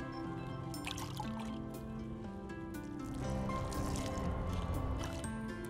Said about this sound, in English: Now we're gonna give it some water.